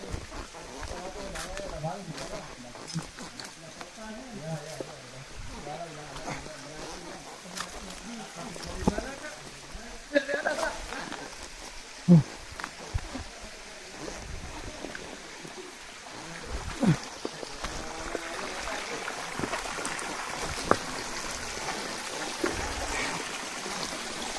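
A river streams along near the Tibu Giong waterfall, a steady close rush and trickle of water running through the whole stretch with scattered knocks and splashes, and no talk over it.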